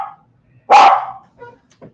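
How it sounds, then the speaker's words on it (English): A single loud dog bark lands near the middle, close and sharp, followed by a couple of softer short yips or whimpers trailing off. "I got an unruly dog."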